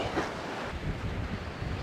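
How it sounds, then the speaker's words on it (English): Wind buffets the microphone in a constant broadband rush while fishing outdoors in Norway, with a louder gust at the start, close. "It's windy."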